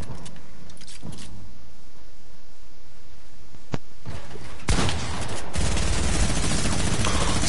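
Minigun fire in the battle royale game Fortnite comes in as a sudden loud, dense burst of rapid shots after quieter game sounds.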